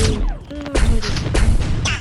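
Loud, dense bursts of rapid minigun fire in a video game with booming impacts and electronic effects, continuous and close.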